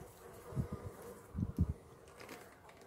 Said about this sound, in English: Look at all those bees, huh?